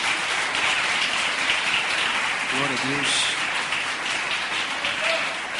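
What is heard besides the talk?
applause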